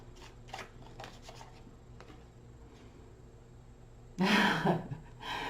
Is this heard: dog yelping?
no